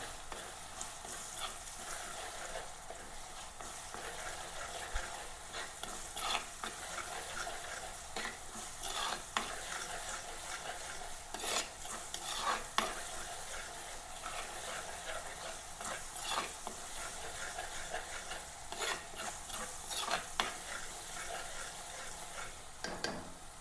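Crushed ginger and garlic frying in a pan, a faint continuous sizzle with repeated soft scraping stirs scattered throughout, close but quiet.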